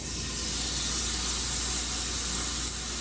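Pork tenderloin sears in a 12-inch cast iron pan over medium heat, giving a steady, loud, broadband sizzle that holds even for the whole stretch with no talk.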